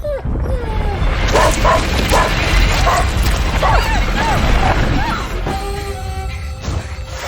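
Short barks and yips from a dog in the video game A Plague Tale: Innocence, mixed with crashing and loud game sounds while voices speak over them.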